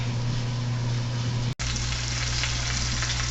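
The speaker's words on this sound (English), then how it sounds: "So we're back, and you can hear that sizzling" Roast sizzling steadily in a pan on a stovetop over medium heat, a loud continuous crackle with a low hum beneath, briefly cut at the midpoint before resuming.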